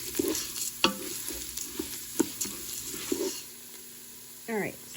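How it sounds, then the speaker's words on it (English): Rice toasting in a Ninja Foodi Deluxe, stirred and tossed: soft scrapes and clicks of a utensil against the pot come at irregular intervals over a quiet sizzle, close and faint. "we're going to probably mix this, toss and turn and everything else for about a good 5 minutes"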